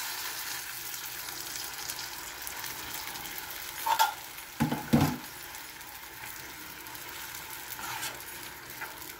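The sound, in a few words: marinated chicken added to hot pan, sizzling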